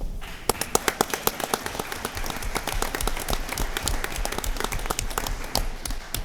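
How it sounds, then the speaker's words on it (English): Applause at a school board of education meeting welcomes the athletic director to the podium, starting with a few sharp individual claps and building into dense, close clapping from a modest crowd. "Have a big round of applause for Lee Johnson"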